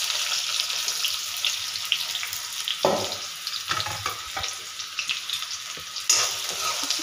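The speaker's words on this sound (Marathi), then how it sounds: "आपण कांदा परतून घेणार आहोत व्यवस्थित" An onion sautés in a hot pan for dhaba-style garlic spinach, giving a steady close sizzle with occasional stirring scrapes and clatters.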